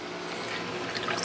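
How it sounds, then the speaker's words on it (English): Water flowing out of a DIY PVC overflow pipe into a sump, a steady close trickle and splash that grows slightly louder toward the end, with no voices. "Water is coming out at the bottom. As you can see, filling up the sump."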